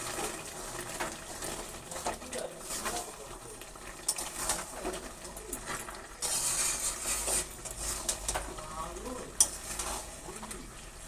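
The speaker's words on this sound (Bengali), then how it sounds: "এবার গ্যাসের ফ্লেমটা একটু জোর দিয়ে একটু নেড়ে দেবো" Chicken curry, Kolkata style, stirred with a spatula in a pan over a high gas flame, giving scraping strokes and a steady sizzle of oil at close range, with no one talking.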